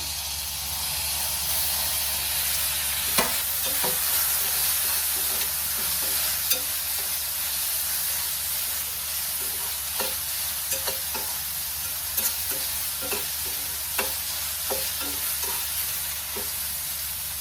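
Chopped tomatoes sautéing in a pan for a creamy paneer dish, a continuous close hiss and sizzle with repeated light scrapes and taps of a spoon stirring, no talking.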